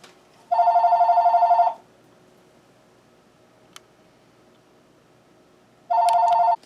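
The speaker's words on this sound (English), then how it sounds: "Sorry about that stupid phone." A telephone rings indoors with two bursts of electronic trilling, each a second or so long, separated by several seconds of near silence. One soft tick falls between them.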